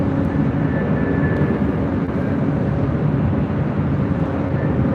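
A jet airliner on its arrival at LAX after a flight from Istanbul roars with a loud, broad, steady engine rumble that stays constant throughout.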